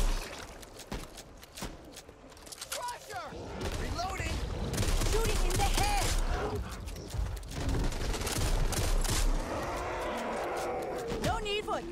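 Combat in the shooter Back 4 Blood: a busy fusillade of gunshots with mechanical clatter, building to a sustained loud barrage in the middle, while voices call out over the fighting.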